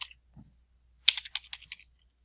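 Fast typing on a computer keyboard while filling out an online candidate form, a short burst of about a dozen close, crisp key clicks after a single faint tap.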